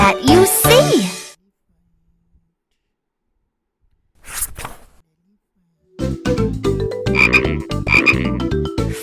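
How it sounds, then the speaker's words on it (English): A cartoon frog in a children's animal video gives a short burst of croaks, then after a quiet gap croaks again repeatedly over bright backing music. "Frog is green."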